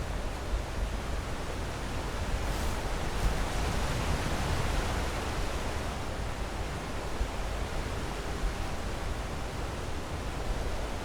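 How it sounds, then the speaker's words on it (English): Steady broadband rush of a waterfall in the Skyrim game world, a continuous even roar with no break and no voices over it. "Oh, look at them taking in the waterfall."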